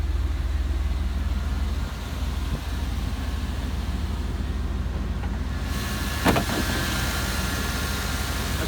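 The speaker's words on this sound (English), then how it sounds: "That's a newer engine." A 1992 Chevrolet Silverado truck engine runs at a steady idle, a constant low rumble with a brief sharp knock partway through and no talking.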